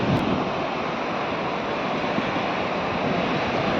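Sea waves roll in at the shore in Dahanu, a continuous broad wash of surf with some wind buffeting the microphone, steady and fairly loud with no talk.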